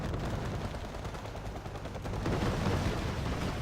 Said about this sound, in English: taking some small arms fire